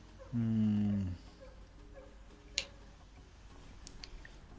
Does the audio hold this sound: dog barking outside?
yes